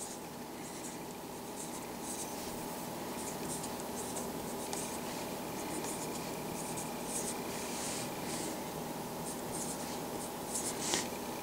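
Marker or pen strokes on a board or paper while factoring a math problem, a steady run of short scratchy strokes close up, fairly quiet, with no talk.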